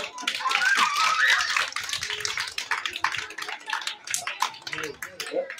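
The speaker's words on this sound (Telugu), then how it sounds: "వెరీ గుడ్, క్లాప్ చేయండి అందరూ" A group of children clap together at a church gathering near Vadarevu beach, a dense burst of hand claps that thins into scattered, irregular claps, with an adult voice and children's voices around them.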